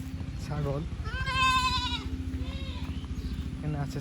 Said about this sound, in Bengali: এখানে আছে ছাগল।